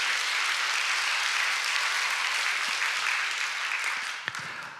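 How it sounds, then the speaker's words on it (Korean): Church congregation clapping steadily during a Sunday worship service, a dense sustained wash of applause that holds for several seconds before tapering off near the end. "우리 하나님께 모든 영광의 박수를 올려드리는 것."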